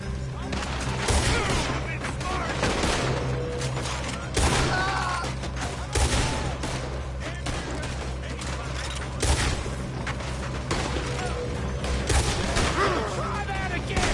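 Gunfire in Red Dead Redemption 2 amid fire, with scattered shots and booms over crackling background noise and people shouting in the scene.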